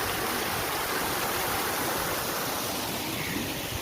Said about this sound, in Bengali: এই লক গেট বন্ধ দেখুন এখান থেকে জল বেরোচ্ছে